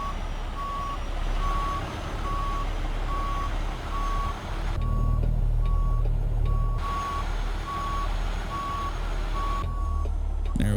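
Reversing beeps from a backing truck in American Truck Simulator, a steady evenly spaced electronic beep repeating over a low engine rumble, with air hiss in places and no talk.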